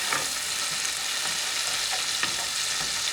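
Tomatoes and garlic fry in a pan with a steady, dense sizzle throughout, with a few light stirring clicks near the mic and no talking.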